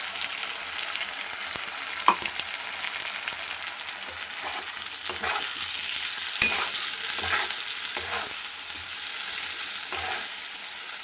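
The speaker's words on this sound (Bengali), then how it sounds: "এবারে আমি মশলাটাকে দিয়ে দেবো এর মধ্যে।" A spice paste of ground ginger, garlic, onion, green chilli and cumin sizzles and fries steadily in a hot pan while being stirred, with a few scraping clicks of a spoon, loud and close with no voices.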